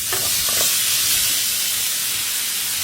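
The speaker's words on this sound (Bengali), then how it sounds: "তারপর একটা সসপ্যানে সামান্য তেল দিয়ে, তেলটা গরম হলে মেখে রাখা মাছটা তেলের উপর" Marinated fish frying in hot oil in a saucepan, a loud, steady hiss and sizzle that runs continuously, with faint clinks near the start.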